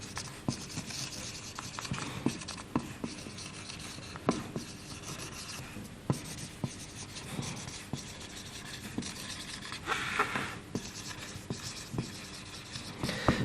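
Chalk or a pen scratches steadily across a child's slate as a negative sentence is written out, a close, continuous scraping broken by small taps and strokes, with no talking.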